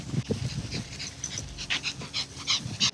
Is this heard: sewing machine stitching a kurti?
no